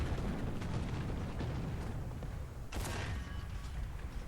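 Tank gun firing in War Thunder ground forces from a T-34-85 with the D-5T gun: a single sharp blast partway through, over a steady, muffled rumble of engine and battle noise.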